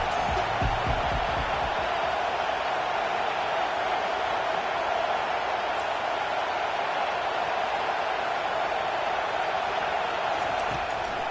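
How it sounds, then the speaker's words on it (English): Football stadium crowd roaring steadily at a college game on a third-down defensive stand, a dense, sustained wash of cheering from a distance with no distinct voices standing out. "Decibels rising as the crowd gets behind this defense on third down."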